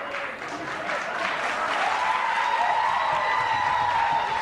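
Studio audience applause on a retro TV show, a steady, dense wash of many hands clapping that swells slightly after the first second and holds, with a faint tonal sound rising beneath it.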